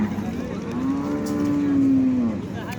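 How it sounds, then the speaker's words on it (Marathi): A single long, loud moo from a bull or cow at a crowded village cattle market where bullock pairs and HF cows are sold, rising and holding for over a second amid steady crowd murmur. "शेती कामाची बैल जोड गावरान"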